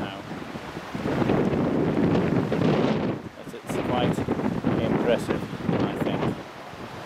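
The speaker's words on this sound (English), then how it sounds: "And as you can hear, it's pretty breezy." Strong wind buffets the microphone aboard a boat on the Bay of Naples in winter, a loud steady roar with gusts, mixed with sea and boat noise while someone speaks over it.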